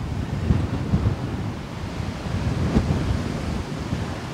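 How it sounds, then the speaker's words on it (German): Strong wind blows over a mountain summit, a loud, steady rumbling roar buffeting the microphone for the whole stretch with no voices. "Da bläst nämlich der Wind ordentlich drüber."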